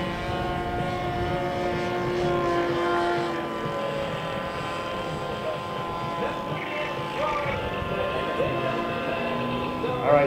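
A model Snoopy flying doghouse aircraft's engine drones steadily at an air show, a continuous buzzing whine that holds throughout, with an announcer talking over it.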